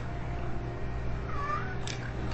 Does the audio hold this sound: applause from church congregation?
no